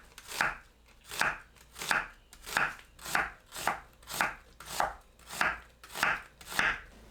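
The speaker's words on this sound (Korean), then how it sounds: "양파를 곱게 채 썰어주세요." A knife slices an onion finely on a cutting board, ten crisp, evenly spaced cuts at a steady, unhurried rhythm, close and clear with nothing else heard.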